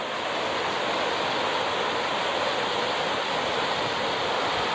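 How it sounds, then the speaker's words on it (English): A waterfall water feature facing a palace pours in a steady, dense rush of water that fills the whole stretch evenly, with no other sound breaking through. "facing the palace is this fantastic waterfall"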